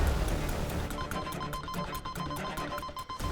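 A household telephone bell rings in rapid, repeated metallic trills, loud and close, with no voices over it.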